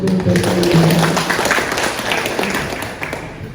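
Audience applause at a gathering on employment access for people with disabilities, a sustained crowd clapping with a few voices mixed in at the start, steady then slowly fading.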